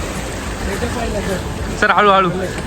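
Sea waves wash steadily along the Konkan coast, a continuous broad rush of surf heard throughout, with someone talking over it toward the end.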